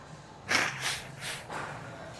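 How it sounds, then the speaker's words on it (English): A few short nasal blasts of someone blowing their nose, close and fairly loud, with brief pauses between each burst. "I'm gonna blow my nose."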